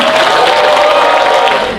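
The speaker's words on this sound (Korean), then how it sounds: "큰 박수 다시 한번 부탁드립니다" A large crowd at a Democratic Party members' rally in Yeongdeungpo gives a big round of applause: loud, sustained clapping mixed with cheering that fills the hall, then begins to taper off at the end.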